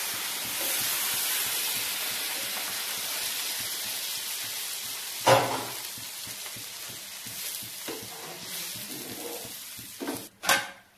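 Water poured into a hot pan of coconut fish curry sets off a steady, loud hiss of sizzling and steam that fades gradually, broken by a few sharp knocks and clatters of utensils near the end, with no talking.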